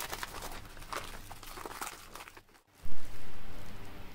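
A delivered package with bubble wrap is unwrapped up close, with crinkling and rustling for a couple of seconds, a brief pause, then a louder crunchy rustle, with no speech.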